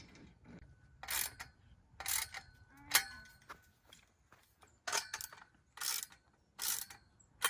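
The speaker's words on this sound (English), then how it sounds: "Just get a wrench and tighten it." Ratcheting wrench tightening nuts and bolts on the joints of a structure being assembled on the ground, heard as repeated bursts of quick clicking strokes, fairly close, with short pauses between runs and no talk.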